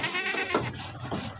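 Goats bleat on a goat farm, a couple of loud, close, wavering cries filling the moment with no talk over them.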